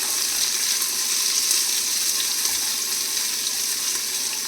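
Potato and cauliflower pieces frying in a pan, a dense, even hiss that holds steady throughout, close and moderately loud with no talking.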